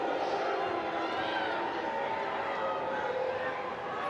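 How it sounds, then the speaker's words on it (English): A football crowd at a women's cup final roars and murmurs in a dense continuous wash of many voices, reacting loudly to a decision without a single clear speaker. "You can hear what the crowd thinks."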